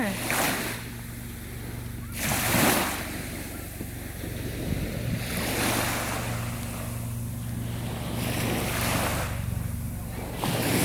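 Sea waves wash onto a white-sand beach on Koh Kham island in repeated loud surges every few seconds, with wind rushing across the microphone and no voices.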